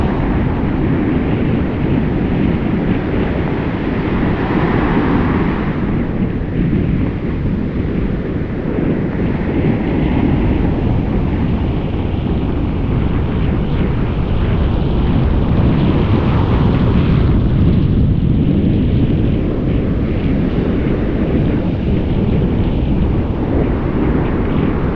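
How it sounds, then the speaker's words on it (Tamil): Waves surge and break continuously at a Chennai beach, a steady loud roar of surf with wind buffeting the microphone, swelling around the middle and again later, with no voices standing out. "பட் அலை வேறு லெவல் பண்ணுது."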